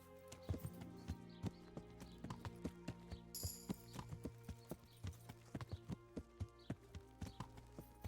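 Horse hooves clip-clop steadily on a path in the medieval game Kingdom Come: Deliverance, a close, even trotting rhythm of sharp knocks with a brief whinny-like burst partway through.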